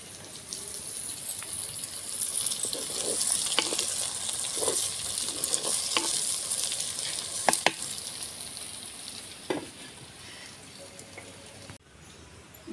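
Onion pieces fry in a pan for a fish curry, a continuous near sizzle with scattered stirring scrapes and a few sharper clinks, ending abruptly; no one speaks.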